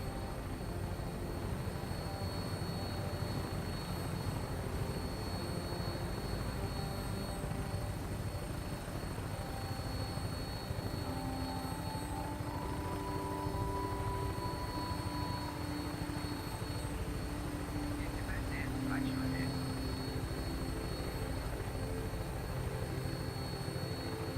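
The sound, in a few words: aircraft taking off and flying, from video game Fallout 4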